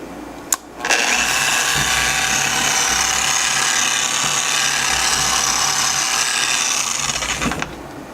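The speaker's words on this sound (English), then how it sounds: "Set your machine to a low speed, turn her on, spread the compound around" A rotary polisher runs at a steady high whir, spreading compound over a car wheel with a gloss coating, holding one even loud tone for about seven seconds before spinning down, with no talk over it.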